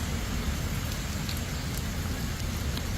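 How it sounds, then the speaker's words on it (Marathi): Steady drizzle falls outdoors at a police recruitment event, making a constant dense hiss of rain that never lets up, with no voices. "आताही आता पावसाची रिपरीप चालू आहे"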